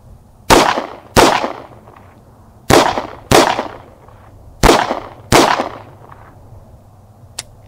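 A Walther PDP F-Series 9mm pistol with a 3.5-inch barrel, firing Remington HTP hollow points at an outdoor range: six loud, sharp close shots in pairs, each pair's shots about half a second apart, with quiet gaps between the pairs.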